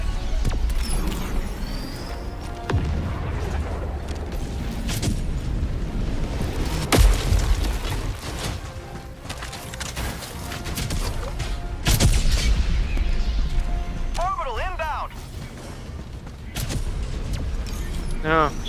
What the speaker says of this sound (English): Calling down a support weapon.